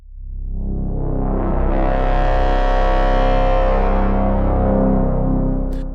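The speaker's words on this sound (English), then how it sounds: "It's basically based on isometry, because isometry sounds like this." A swelling synth pad from the Isometry instrument, set up for post-apocalyptic chase music, rises from deep rumbling bass into a loud, dense, sonar-like drone that sustains for several seconds and thins slightly at the end.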